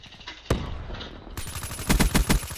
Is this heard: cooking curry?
no